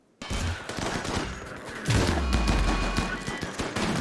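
Bursts of rapid gunfire in the video game RimWorld, aimed at a Mega Sloth, start abruptly after a moment of silence and continue as a dense fusillade with deep rumbling underneath, loud and close.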